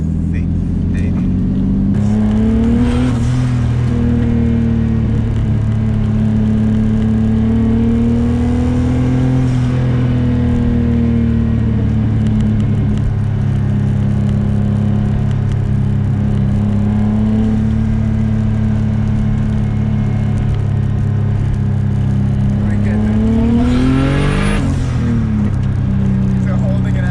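A 1987 BMW E30 with a 500whp turbo M50 engine cruising on the road, its steady drone and low growl rising and falling as the throttle changes, with a brief surge near the end and people talking over it inside the car.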